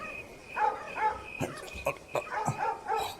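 A dog gives a few short, yipping barks in quick bursts at moderate distance, with some faint whimpering between them.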